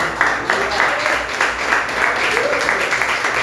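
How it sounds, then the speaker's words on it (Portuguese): Church congregation applauding during a sermon, a steady wash of moderate clapping with voices mixed in throughout. "Será que você pode aplaudir o Senhor por esta palavra, querido?"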